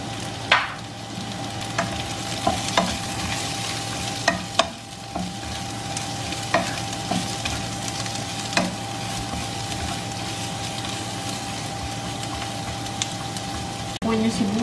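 Chopped onions sautéing in a pan for chicken biryani, a steady low sizzle with scattered clinks and scrapes of stirring, while someone talks over it.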